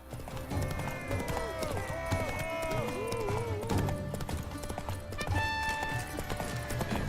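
A horse gallops in The Witcher 3 with a rapid, even clip-clop of hooves on the ground, while a voice speaks over the hoofbeats and game music plays in the background.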